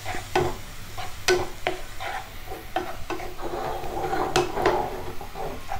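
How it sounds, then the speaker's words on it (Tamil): Rice flakes are stirred with jaggery syrup in a pan: a series of close, rhythmic scraping and stirring strokes with a soft sizzle underneath. "இதோடு சேர்த்து நம்ம கலந்து விடணும்."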